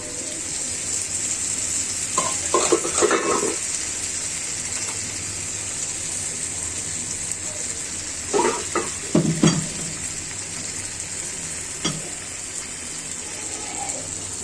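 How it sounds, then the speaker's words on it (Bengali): Boiled chickpeas sizzle steadily in a hot pan, with two bursts of scraping and clattering as they are stirred and tossed. "সিদ্ধ ছোলাগুলো ছেড়ে দিচ্ছি"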